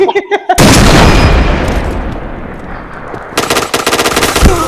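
Gunfire in a video game: loud, rapid machine-gun bursts ring out close by, with sharp rattling volleys near the end, while players talk over the shooting.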